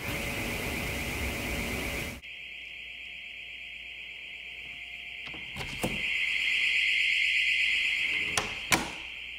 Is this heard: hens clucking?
no